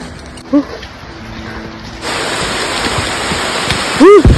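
Steady broadband hiss of rain on a mountain that grows louder partway through, with a couple of brief tonal chirps near the start and end.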